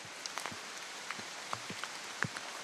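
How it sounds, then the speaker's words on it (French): Light rain on the first wet day on a hillside, scattered drops pattering irregularly on surfaces and leaves over a soft steady hiss, quiet and fairly close. "C'est le premier jour de pluie."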